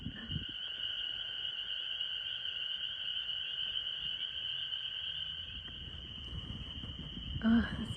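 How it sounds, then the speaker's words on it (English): Frogs call loudly at sunset in a dense, continuous high trill that runs without a break over soft outdoor ambience, with a brief bump of noise near the end. "And the loud frogs."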